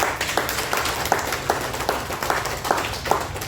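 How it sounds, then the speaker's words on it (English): Scattered, uneven clapping from a small group at a post-fight boxing press conference, with a few sharper individual claps standing out over a murmuring background. "I want to just give a big round of applause to Derek"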